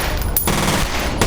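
Loud automatic gunfire from the video game F.E.A.R., rattling in rapid bursts with a sharp burst near the start and another near the end, no voices over it.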